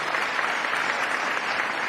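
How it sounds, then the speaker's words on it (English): Applause for a mayor at a technology groundbreaking announcement, a brief, even burst of crowd clapping at moderate distance without any talking. "Let's give another round of applause to Mayor Ken Walsh"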